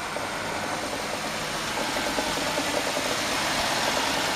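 A 2005 Chevy Malibu's 3.5 liter engine idles with a steady, close mid-range hum and a faint ticking, with no talk over it.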